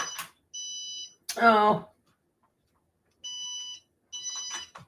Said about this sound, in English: My iron is beeping at me.